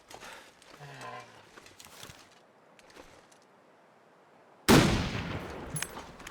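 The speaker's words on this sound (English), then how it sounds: "I'm wasting all my ammo by missing this moose" A rifle shot fired at a moose in the survival game The Long Dark rings out as one sudden loud crack with a decaying tail, following quieter ambient sounds and faint game noises.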